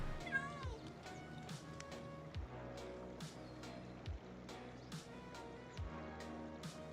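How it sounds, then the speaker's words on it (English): A cat meows in a Minecraft game several times over music with a steady beat and tonal backing, the meows fairly faint in the mix. "I can pick up that, but I can't pick up the cat"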